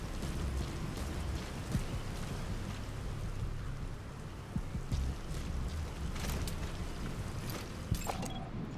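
Steady rain in the video game Metal Gear Solid V: The Phantom Pain, set in Africa, a soft even hiss of falling drops with occasional sharper patters, fairly quiet and continuous with no speech.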